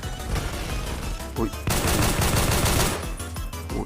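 Rapid shots from an M1911 pistol fitted with a very long barrel in Roblox Phantom Forces, a dense run of gunfire over busy game noise, with a louder burst in the middle of the stretch.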